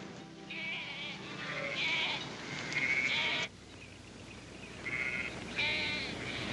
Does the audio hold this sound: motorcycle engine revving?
no